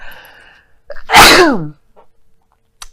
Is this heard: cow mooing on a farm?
no